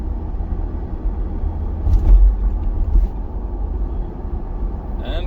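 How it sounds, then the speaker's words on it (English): Steady low road rumble of a car cruising at about 35 mph in fifth gear, continuous engine and tyre drone heard from inside the cabin with a slight swell midway. "I'm at about 35 miles an hour and it's already on fifth gear."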